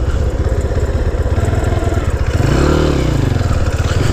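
Honda C90 motorcycle running off-road, a loud close engine putter with fast rhythmic pulses, rattling and clatter, and a brief rise and fall in pitch as the throttle is worked.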